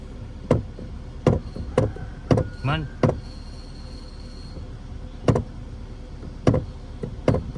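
A Toyota Avanza's pedal being pressed and released gives about eight sharp knocking clunks at irregular intervals, with a brief squeaky chirp in the middle, fairly close and with no talk.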